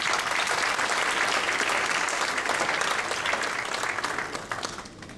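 Audience applause at a speech honoring work with B'nai Anusim, sustained loud clapping from a large crowd that fades gradually toward the end.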